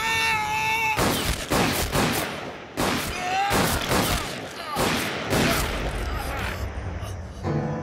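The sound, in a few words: gunshot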